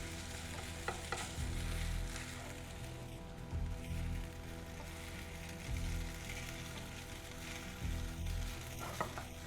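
Noodles are stirred and tossed in a sizzling pan, with a spatula scraping in repeated strokes about a second apart over a steady crackle of frying.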